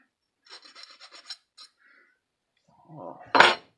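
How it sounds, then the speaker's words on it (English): A small Lionel KW transformer whistle lever part being filed to remove burrs: a quick run of short raspy strokes, then a pause, then a louder, harsher scrape close by at the end. "just filing off some of the burrs"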